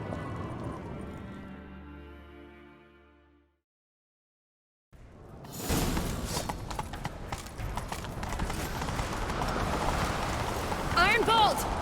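Rapid hoofbeats of a galloping horse in The Witcher 3: Wild Hunt pound steadily after a brief silence, loud and close, with rain-like clatter and voices mixed in.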